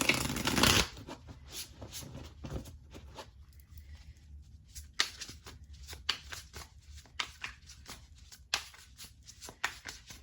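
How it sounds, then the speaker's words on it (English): Tarot cards are shuffled in a long sequence: a loud riffle at the start, then soft rustling and sharp, irregular snaps of cards being cut and stacked. "So let me shuffle the cards."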